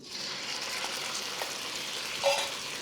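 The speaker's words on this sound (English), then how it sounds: "I'm gonna let that sear without disturbing for about a minute" Protein sears in a hot pan for Thai pad see ew, giving off a steady, close sizzle with brief louder spits and crackles as it browns undisturbed.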